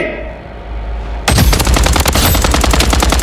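Rapid automatic gunfire in the Blood Strike shooter game erupts abruptly after a quieter stretch of ambient game noise, then continues as dense, loud, repeated bursts of shots to the end.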